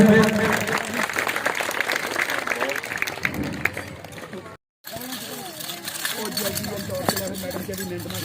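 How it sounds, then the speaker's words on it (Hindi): A spring festival crowd claps at an outdoor show, loud and dense at first, then thinning, cutting out briefly and returning with voices talking over it. "तालियां हो जाए एक दफा फिर।"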